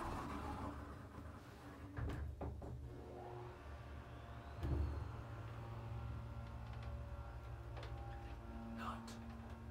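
Kone/US hydraulic elevator motor running in an apartment building, a steady low hum with faint mechanical ticks and clunks, with people talking quietly nearby.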